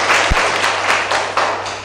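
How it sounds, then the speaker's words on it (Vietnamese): A classroom of students in Dak Nong gives a short burst of applause for a classmate during a traffic safety lesson, dense clapping filling the room under faint voices, with one sharp louder clap near the start. "Cả lớp chúng ta thưởng bạn Khôi một tràng vỗ tay nào"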